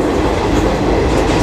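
The Garib Rath Express rolls at Dadar station in Mumbai, a loud, steady rumble of railcars with rhythmic clickety-clack from the wheels, close by and with no talking.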